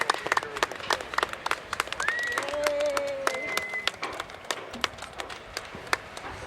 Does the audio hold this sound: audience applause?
yes